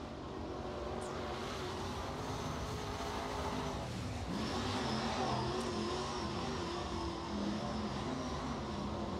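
A crate race car laps the Crossville speedway during qualifying, its engine a steady distant drone that swells slightly as it passes mid-lap, with no talk over it.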